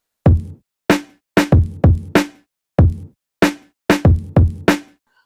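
A hip hop kick and snare sample play together in a steady boom bap groove, deep thumps alternating with sharp cracks across about ten hits, loud and upfront with no other sounds.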